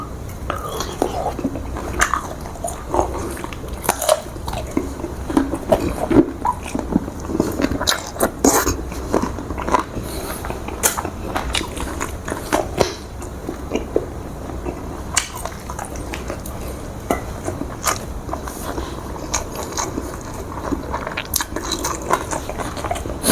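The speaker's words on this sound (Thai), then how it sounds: "แต่ก็เคี้ยวได้อยู่" Someone eats a pot-cooked dish of bamboo shoots with crunchy cartilage, steady close chewing with frequent sharp crunches and faint utensil clinks over about twenty seconds, with occasional quiet voices.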